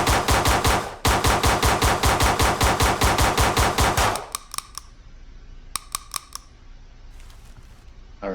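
An M16 rifle fires a final magazine from the prone position in rapid, evenly spaced shots for about four seconds with one brief pause, loud and close, followed by quieter clicks and handling noises.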